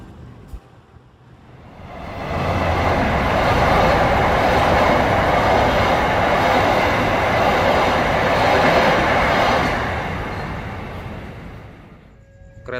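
A local commuter train rolls into a station at night, a loud sustained rumble of wheels and rail noise building up, holding steady, then easing off as it slows, with no talk over it.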